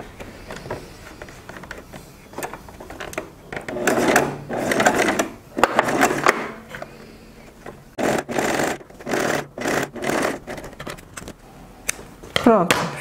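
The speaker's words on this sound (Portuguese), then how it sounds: "E vou passar uma costurinha, obedecer um pouquinho abaixo dessa primeira costura que eu fiz." A sewing machine stitches bias binding onto a fabric pouch in several short rhythmic runs of whirring, clattering needle action, separated by brief pauses and handling noises, fairly close and clear.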